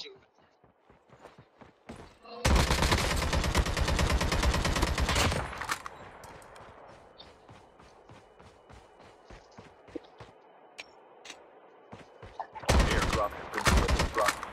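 Automatic gunfire in the mobile shooter Call of Duty Mobile, a loud rapid burst lasting several seconds, then quieter scattered shots and footsteps, and another sharp burst near the end, with a player talking in between.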